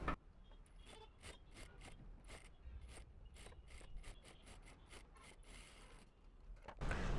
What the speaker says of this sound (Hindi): अब यहाँ से ना हमने थोड़ा थोड़ा फोल्ड कर लेना है और इसकी सिलाई लगा लेनी है।